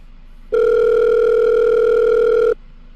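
A phone ringback tone in the PK XD mobile game: one steady electronic tone held alone for about two seconds, with clear silence before and after it.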